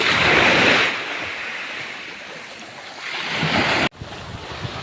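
Sea surf at Bitoon white sand beach, a broad steady wash of waves mixed with gusting wind buffeting the microphone, loudest at the start, swelling again before a brief abrupt dropout.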